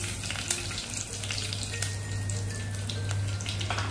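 Cumin and mustard seeds splutter and crackle in hot oil for Rajasthani dal baati, a steady close sizzle with scattered sharp pops under a low hum.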